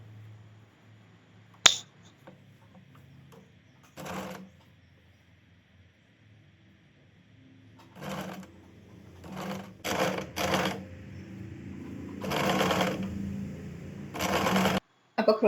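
Sewing machine joining kurti fabric pieces, with short bursts of rapid stitching starting and stopping at irregular intervals, the longest run lasting a couple of seconds, fairly close and alone without talk.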